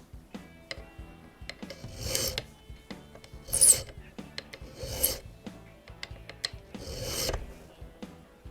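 A hand file rasps across the end of a small brass pin held in a pin vise during restoration of an 1837 Japy Freres mantle clock. Short, crisp strokes come at an irregular pace, with a few longer, louder passes, close and alone.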